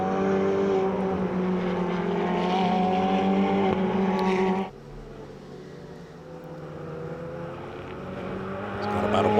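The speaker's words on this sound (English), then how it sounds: "Hear the thrumming of the Pirelli tires on the rumble strips, the red and white stripe strips at the side of the racetrack" Ferrari Challenge race cars on the COTA circuit, tires thrumming over the red-and-white rumble strips as an engine roars past loudly, then drops to a lower, steadier drone.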